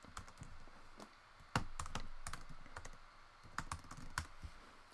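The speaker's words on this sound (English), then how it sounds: "You might be able to hear me typing." Soft, fairly quiet computer keyboard typing, a string of irregular clicks and taps in bursts with brief pauses, close to the microphone and without talk.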